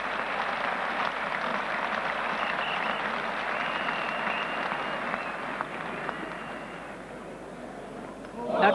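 A cricket crowd at Lord's applauds steadily during an England v West Indies Test match, a sustained wash of clapping from a large stadium audience that holds level throughout and tapers slightly near the end.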